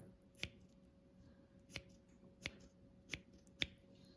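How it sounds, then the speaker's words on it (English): Five crisp, evenly spaced snips of scissors cutting through the two-layer pipe of a razor clam, close and clean against a quiet background. "And the pipe is actually 2 layers, so make sure you cut through it one more time."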